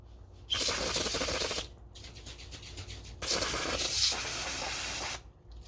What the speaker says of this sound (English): We're just going to blast her quick with our can. Just hit her with our